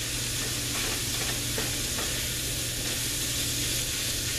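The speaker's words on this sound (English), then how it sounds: "Stir it around. Let it absorb all of that grease and drippings from your" Flour being stirred into hot sausage grease and drippings in a pan, giving a steady close sizzle and frying hiss with faint scraping of the stirring utensil throughout.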